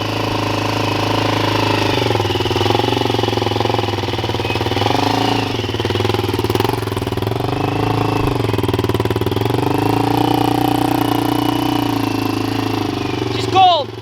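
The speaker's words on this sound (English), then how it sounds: "It's a 2020 YXZ. It's a full Trinity exhaust, DLP tune." A 2020 Yamaha YXZ 1000R with a full Trinity exhaust and DLP tune idles cold in the snow, a steady, close, rumbling throb with slight fluctuations in pitch, while people talk over it.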